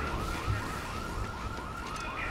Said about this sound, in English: How long this alarm's gonna go on for?